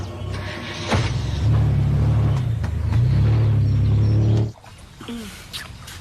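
A car starts up and pulls away, a low engine rumble holding steady for a few seconds nearby before fading out abruptly, leaving faint background noise.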